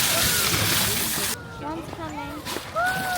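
Seal at a small Central Park zoo display splashing water toward visitors, a broad wet splash burst at the start followed by sloshing, with people talking and exclaiming nearby.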